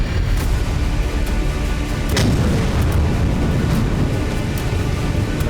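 Explosion in Syria from an Israeli bomb, a loud, dense rumbling blast with sharp bursts and cracks over a heavy continuous low roar.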